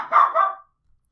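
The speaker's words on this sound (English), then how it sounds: "it's hard to record audio when dogs barking their ass off" A dog gives two quick, close barks in succession, then falls silent.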